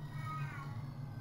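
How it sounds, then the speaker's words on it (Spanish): A cat meows inside the PlayStation horror game Silent Hill, a single drawn-out wavering cry over a steady low hum of game ambience. "Y el gato, miau."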